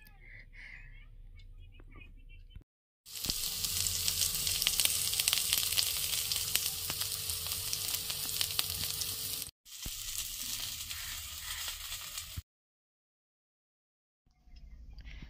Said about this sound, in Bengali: গাঁদাল পাতার বড়া করব, ওই জন্য কড়াতে তো তেল দিয়ে দিয়েছি